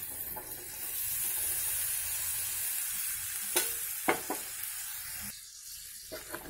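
Boiled chickpeas for chana chaat are stirred and mixed in a pan with a continuous sizzling hiss, a few sharp scrapes of the spoon standing out near the end.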